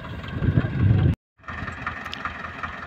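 A tractor engine runs close by as the tractor enters a wheat field at harvest time in Kargil, Ladakh. The steady mechanical drone cuts out briefly near the middle and then resumes.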